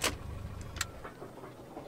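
In Flight Simulator X, a light aircraft's engine winds down as it shuts off after taxiing, a steady low hum with a few faint clicks from the parking brake and switches, and no talking.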